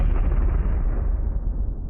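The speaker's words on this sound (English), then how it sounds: "Mulciber had just let off a firecracker at the far end of the Slytherin table." A firecracker let off at the far end of a school dining hall bursts into a loud, booming blast that rumbles and rolls away over nearly two seconds, with no voices over it.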